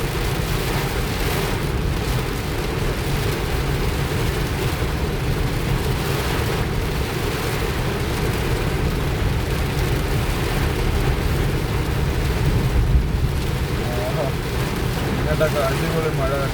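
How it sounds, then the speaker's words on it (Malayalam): Heavy rain pounds a car driving along a waterlogged road, a loud, dense, unbroken roar of drumming water that holds steady throughout. "അടിപൊളി മഴ കേട്ടോ."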